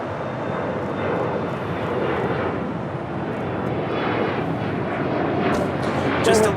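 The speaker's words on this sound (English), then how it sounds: "This is a brand new Dreamliner." A brand new Boeing 787 Dreamliner, United flight on runway 25 right at Los Angeles International Airport, roars steadily with a broad, sustained jet rumble at a distance, a continuous wash of engine noise throughout.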